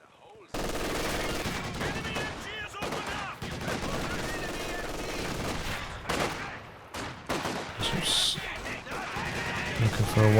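Gunfire from Company of Heroes 2, a real-time strategy game of World War II battles, including incendiary rounds: dense, continuous rattling bursts and sharp cracks with occasional heavier crashes, loud throughout.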